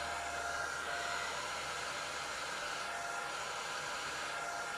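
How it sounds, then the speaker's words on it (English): A hair dryer blows steadily and loudly throughout, a constant whooshing roar with a faint motor whine and no pauses. "So I'm going to use the hair dryer."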